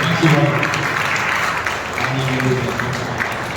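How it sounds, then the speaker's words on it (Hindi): Loud, dense clapping from a congregation at a Pentecostal Sunday church service, continuing steadily throughout with voices shouting and talking over it. "हाँ ताली बजाएं, जोर से ताली बजाएं।"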